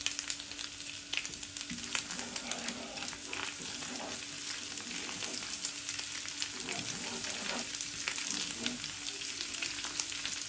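Garlic sizzles in butter mixed with a little oil for a dal tadka, a continuous close frying hiss with small bubbling pops, moderately loud and steady throughout, with no one talking.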